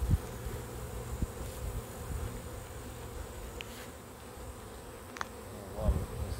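A swarm of bees buzzes in a dense, continuous drone close by, with a few louder individual passes flicking past, and no one speaking.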